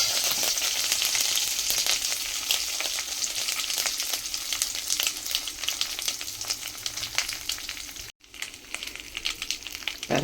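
Tempering spices crackle and sizzle in hot oil in a kadai for horse gram rasam, a dense, steady frying hiss with sputtering bursts throughout and one brief dip near the end.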